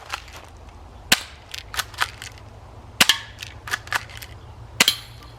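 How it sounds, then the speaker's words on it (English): Three sharp cracks from a Daisy Powerline 340 BB pistol fired quickly, spaced about two seconds apart, standing out above quieter clicks and handling noise with no voices. "We're going to take shots, 3 fast shots, see how many times we hit it."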